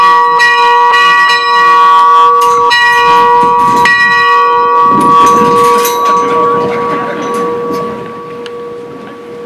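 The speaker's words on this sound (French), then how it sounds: "J'invite Arthur à sonner la cloche" A church bell rung during a blessing ceremony, loud repeated ringing strikes with long sustained metallic overtones, the tolling fading toward the end with faint room noise beneath.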